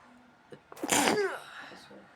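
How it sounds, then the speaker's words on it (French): A single sharp sneeze bursts out after a brief intake of breath, loud and close, followed by a faint trailing vocal sound. "je fais que d'éternuer, c'est pas possible"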